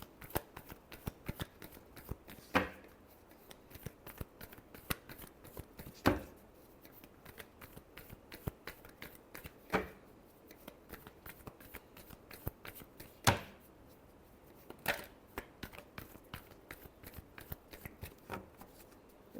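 Tarot cards shuffled by hand in a quiet room, a steady run of soft riffling flutters broken every few seconds by sharper slaps as the deck is squared, close and fairly faint, with no voices.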